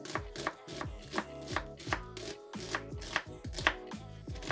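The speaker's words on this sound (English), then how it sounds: "let's chop this onions" An onion being chopped on a chopping board: a brisk, even series of sharp knife taps, about ten strokes, close and fairly quiet.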